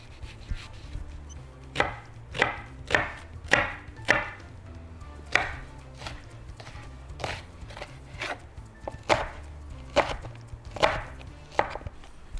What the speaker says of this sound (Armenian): Դե իհարկե մանր ենք կտրատելու։